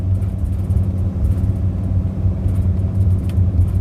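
A vehicle engine with a busted ignition coil labors steadily up a hill while held under 2,500 RPM, a loud continuous low rumble heard from inside the cab.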